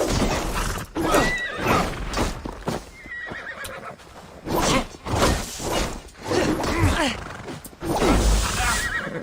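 Horses neigh and whinny again and again amid clattering hooves and crashing impacts in the video game Assassin's Creed Valhalla, loud and close, with a voice talking over it.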